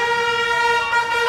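A truck horn blares outside in one loud, steady, sustained honk that fills the whole moment.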